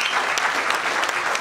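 A concert audience at a tribute show claps for a performer, a dense, steady burst of applause filling the hall, loud and close.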